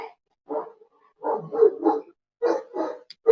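A dog at home barks close by in short bursts, reacting to someone coming and going next door, with brief pauses between the yips and woofs.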